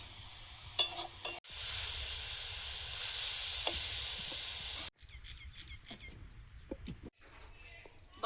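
Greens (shak) fry in a pan with a soft, steady sizzle and occasional stirring clatter, faint and close, as a rooster crows in the background.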